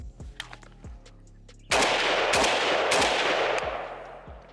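An AK12 rifle fitted with a Krebs Custom M23 stock fires a single loud, sharp shot that rings out with a long decaying tail, preceded by faint mechanical clicks and handling noises.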